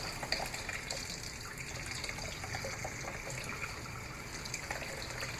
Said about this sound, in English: So we are rinsing the shell.